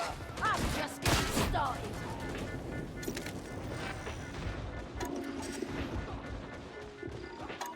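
Video game combat with a grenade blast and gunfire: sharp loud crashing bursts early on, then a crackle of scattered shots and debris over a busy background, with a voice briefly heard.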